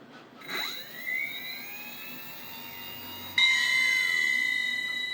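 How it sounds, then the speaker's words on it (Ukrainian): A small motor whines and rises in pitch as the spreader mechanism of a Taifun MAXI remote-controlled fishing bait boat runs. Partway through it jumps to a louder, steadier high whir, close up, with no talking. "Отак працює розкидувач."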